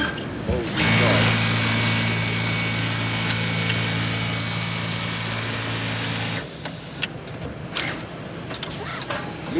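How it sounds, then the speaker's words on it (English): A Pfaff 3688 programmable automatic pocket setting machine runs at a trade show with a steady mechanical whir and hum lasting several seconds before stopping, amid hall noise and nearby voices. "this is a pocket setting machine, right? I think I heard this is one of the best pocket setting machines."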